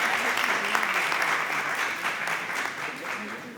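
A university jubilee audience in Karachi claps to welcome a speaker onto the stage, a full burst of applause that gradually thins out, with faint voices underneath.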